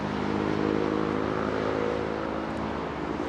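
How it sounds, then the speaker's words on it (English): A Vietnam Airlines jet taking off from Heathrow with its gear still down, a steady, loud, broad engine roar with a low droning hum beneath, sustained and evenly rumbling throughout. "the actual air passing through the engine and out the back"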